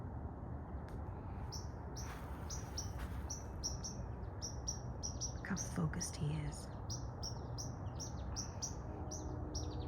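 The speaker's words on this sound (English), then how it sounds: "Charlie hears the bird" Repeated small chirps from a bird in a spring garden, fairly clear and steady throughout, with background rustle and a brief quiet remark from a person.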